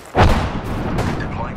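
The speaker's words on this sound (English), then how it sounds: "Throwing frag." A fragmentation grenade detonates in a tactical shooter game, a sharp loud blast followed by a sustained rumbling tail with further booming impacts under it.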